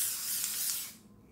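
A spray foundation mists out in one steady, close hiss lasting about a second, then cuts off into quiet.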